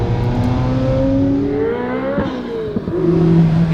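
Ferrari F40 supercar driving on the road, its engine droning loud and close with a steady tone that climbs and dips as the revs change, a brief clatter in the middle and no talk.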